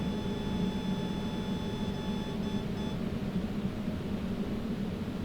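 A high, steady tone sounds in the cockpit of a DC Designs Concorde in a flight simulator during an ILS approach. The radar warning alarm holds a few seconds over loud engine and wind rumble, then cuts out.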